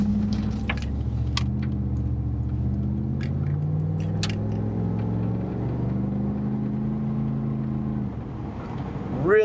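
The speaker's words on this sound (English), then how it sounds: "Really, really smooth linear acceleration." A 1988 Chevrolet Camaro IROC Z accelerates through its gears from inside the cabin, engine tone rising and dropping with each shift as a steady low rumble continues, with light clicks and a brief noise burst at the end.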